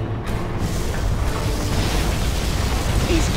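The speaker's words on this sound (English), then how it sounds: "Particle cannon activated." Particle cannon superweapon firing in the video game Command & Conquer Generals Zero Hour, a loud sustained roaring blast with heavy low rumble that stays at full strength without letup.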